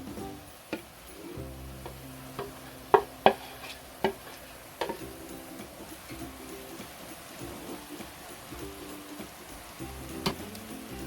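Broccoli is stirred into ground beef bulgogi frying in a pan, with a low, quiet sizzle and a few sharp scraping knocks clustered early, then a calmer simmer. A faint low hum runs underneath, and no one speaks.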